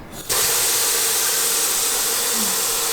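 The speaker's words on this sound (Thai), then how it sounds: "ให้ดูว่าเวลาเปิดน้ำอะ" A kitchen tap opens into a Clean Up brand sink, and the water runs in a steady, even hiss with little splashing.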